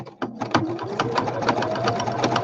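Sewing machine stitching fabric ephemera pieces for a woodland-themed journal, a steady fast whirring run of needle strokes, close and continuous for the whole stretch with no talk.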